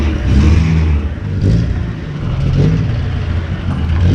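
A BMW E34 with a diesel engine revs close by, loud and rough, with the engine note rising and falling in several surges.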